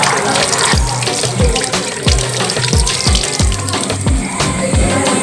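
Water runs loudly into a sink for washing up after a meal at a resort, a steady close gushing with rhythmic low thumps roughly every half second.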